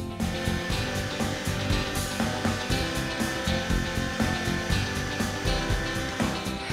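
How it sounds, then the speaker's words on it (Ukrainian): An electric meat grinder with a juicer attachment mincing onion gives a steady, loud motor whir with a faint rhythmic churning texture that runs throughout, and no one talks. "просто сльози щастя виступають від того, як легко електром'ясорубка впоралася із цибулею"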